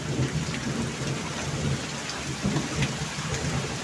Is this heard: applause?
no